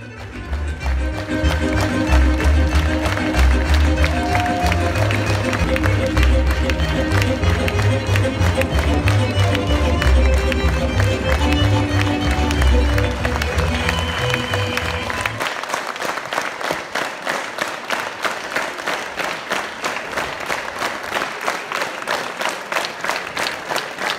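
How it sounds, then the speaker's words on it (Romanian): Sustained applause from a theatre audience rewarding actors at an international theatre festival in Argeș, loud and dense for about fifteen seconds before thinning into lighter, scattered clapping. "Actorii au fost răsplătiți cu multe aplauze."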